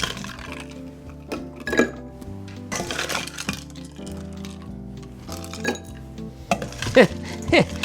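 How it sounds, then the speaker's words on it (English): Ice cubes drop into a cocktail shaker in several quick bursts of bright clinks and rattles, separated by short quiet gaps, close and clear. "Put some ice in here."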